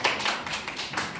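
A short burst of clapping for a contestant in a geography quiz game, a fairly close, even patter of several hands, brief and without talk.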